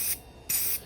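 Two short bursts of spray paint from an aerosol can passed back and forth over a wooden board, each a bright, close hiss separated by a brief pause.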